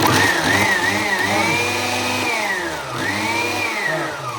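A mixer grinder runs loudly and steadily, its motor whine rising and dipping in pitch as the blades churn.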